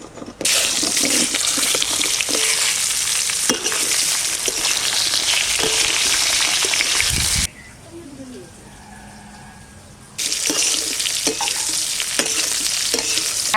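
Cut brinjal pieces frying in hot oil in a pan, a loud, dense sizzle that runs continuously, drops away for a few seconds while the pan is briefly quiet, then surges back just as loud.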